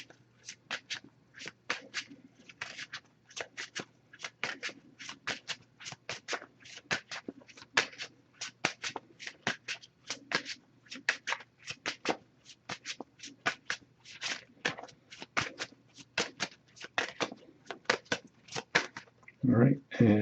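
A Messages of Love oracle card deck shuffled close up for about twenty seconds: a rapid, steady stream of crisp card flicks and riffles, with a heavier thump and rustle of handling at the very end.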